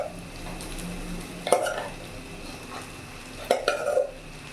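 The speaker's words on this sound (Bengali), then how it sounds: "এরই মধ্যে যে রাইসটা আমার হয়ে গেছে, এটা আমি অল্প অল্প করে মেশাবো।" Cooked rice being mixed into chicken fried rice in a pan, a low steady frying hiss broken by two short clusters of spatula scrapes and clacks, close by with no speech.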